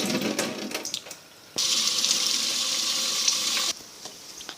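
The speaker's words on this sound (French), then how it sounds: "Donc là je vais remettre de l'eau" Water is poured from a tap to refill a guinea pigs' water supply, giving a bright, steady splashing gush. It starts suddenly after quieter handling noises, runs for about two seconds, then stops abruptly.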